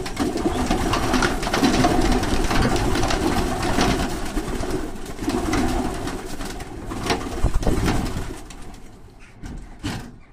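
Racing pigeons are released from a loft door, with close, continuous cooing and fluttering from the flock under steady background noise, thinning toward the end as the birds leave.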